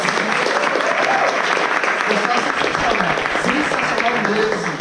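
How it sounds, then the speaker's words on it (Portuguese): Church congress audience breaking into sustained applause, a dense, even wash of clapping with scattered voices and cheers mixed in underneath. "Vamos bater palmas? Vamos!"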